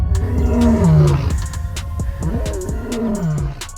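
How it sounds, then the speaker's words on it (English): A lion roaring close and loud, with deep, drawn-out groaning roars that rise and fall, followed by a series of shorter grunting calls. "Lion."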